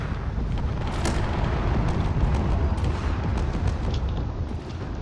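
Heavy explosive blasts roar continuously as torpedoes slam into a cruiser during a Drone Wars space battle, with sharp crackling bursts layered over a loud, sustained rumbling low end.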